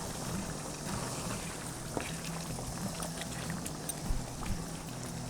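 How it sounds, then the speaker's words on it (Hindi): Half a tablespoon of kewra water is poured into a biryani masala for a prawn biryani, making a soft, steady liquid wash and bubbling hiss close up, with a few faint ticks and no talking. "केवड़ा वाटर मैं इसमें ऐड कर रही हूँ 1/2 टेबल स्पून"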